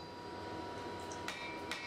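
A hatchet blank for a folded hatchet is hammered at an angle over the edge of an anvil. Two faint, sharp metallic strikes sound about half a second apart over a steady background hum.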